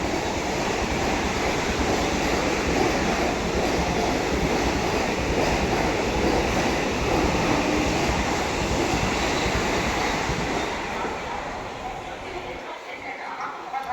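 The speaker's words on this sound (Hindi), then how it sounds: "वंदे भारत निकल रही है, वाराणसी वंदे भारत एक्सप्रेस अलीगढ़ को स्किप कर रही है" The Varanasi Vande Bharat Express passes close by at speed without stopping at Aligarh Junction, making a loud, continuous rushing roar that holds steady and then drops away near the end.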